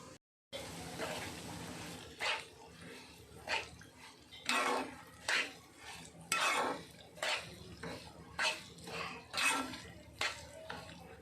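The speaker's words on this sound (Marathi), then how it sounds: "हा रवा आता थोडासा लालसर होईपर्यंत छान भाजून घ्यायचा आहे" Semolina roasting in a pan over low heat for sheera, stirred with a spoon in a series of regular scraping strokes, each a soft rasp against the metal, with quiet gaps between.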